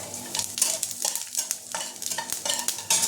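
Dried red chili, whole cumin, mustard and black mustard seeds sizzling in hot oil in a home kitchen, a busy crackling fry with spattering pops and a utensil stirring, no talking.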